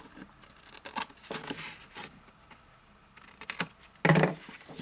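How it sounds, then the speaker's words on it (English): Scissors snip away the corners of a paper card for a slider card, a few quick crisp cuts close by, ending in a louder rustle of handled paper. "I'm going to cut away the corners down here."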